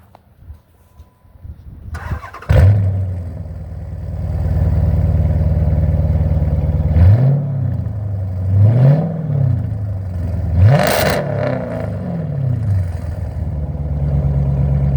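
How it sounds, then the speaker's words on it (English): A Dodge Charger autocross car cranks and fires up with a sharp catch, settles into a deep rumbling idle, then gives several quick revs that rise and fall, loud and close. "You wanted to start up for us and a little rev?"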